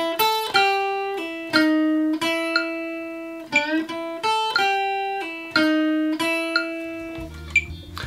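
An electric guitar plays a tab measure of single picked notes with string bends and tied notes that keep ringing over one another, clean, close and moderately quiet, with no voices.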